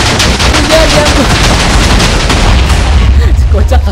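Modded TNT in the Minecraft video game going off like firecrackers, a dense, loud, continuous crackle of rapid bursts and booms that fills the whole stretch without pause.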